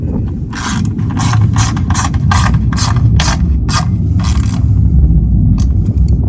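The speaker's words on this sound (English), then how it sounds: "Now we've got all our bolts in, and tighten it up." A ratchet wrench tightens bolts on heavy-duty rock sliders for a Tesla Cybertruck, sounding as roughly nine close, quick bursts of clicking over a steady low background hum, ending in a few lighter ticks.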